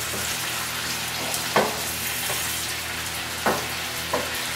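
Chicken frying in a pan with a spoonful of pad thai sauce, a steady close sizzle with a few sharp scrapes and clinks of a utensil stirring at intervals.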